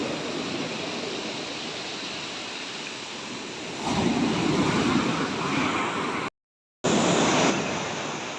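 Continuous rumbling of large waves breaking nearby, with wind buffeting the microphone and a brief dropout near the end.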